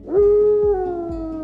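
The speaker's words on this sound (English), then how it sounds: "In the wild, dogs and wolves howl to announce their presence" A dog howls in one sustained, rising-then-steady wail, loud and close, with faint lower tones underneath and no talking.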